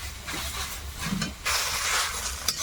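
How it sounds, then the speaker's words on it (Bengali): Chopped tomato sautéing in a pan with vegetables, a loud close hiss of steam and sizzle that swells sharply partway through and holds steady, with a faint low rumble beneath. "টমেটোটা দিয়ে দিয়েছি, এখন এটা একটু কষিয়ে নেব।"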